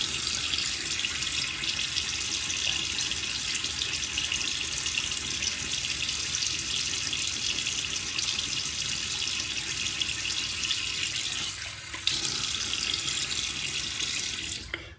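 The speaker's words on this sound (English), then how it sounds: "Let me get my face wet real quickly." A bathroom tap runs steadily into a sink before a wet shave, a constant close hiss of flowing water lasting the whole stretch with one brief dip near the end.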